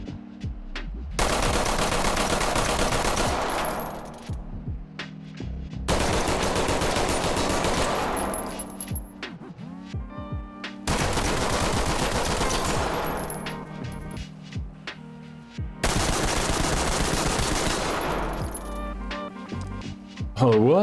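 Glock 19 and M11 pistol fire in the tactical shooter Ready or Not, four long bursts of rapid automatic shots separated by brief pauses, loud and close, with faint clinking casings.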